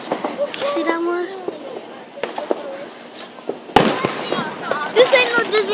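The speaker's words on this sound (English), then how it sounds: "This ain't no Disney fireworks." Backyard fireworks bursting among a group of friends: scattered pops early on, then a loud close explosion partway through followed by crackling bangs, with excited voices of children and adults talking over the display.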